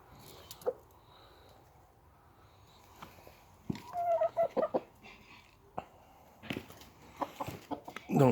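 Hens at a chicken coop give scattered soft clucks and short squawks, quiet at first and busier and nearer later, alongside light shuffling and handling noises.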